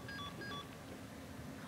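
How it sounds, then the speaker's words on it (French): A phone in the horror game Until Dawn gives a low-battery alert, a few quick, faint electronic beeps in a short pattern that then falls away into quiet background ambience. "quand elle a plus de batterie sur son téléphone, ça fait ce bruit-là"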